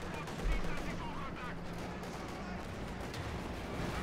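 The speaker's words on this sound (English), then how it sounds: "Panzer IV engaged by the T-34. A hit and a hit." A T-34 tank fires on a Panzer IV in the World War II strategy game Company of Heroes 2, with a sharp cannon report near the start over a dense, continuous din of battle gunfire and rumble.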